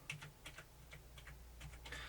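Keys tapped on a Logitech K375s wireless keyboard, a quick series of soft, close clicks in an uneven rhythm with no other sounds.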